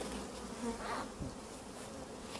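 Honeybees buzzing around beehives in spring during the rapeseed bloom, a dense steady hum of many insects close by, with no talk.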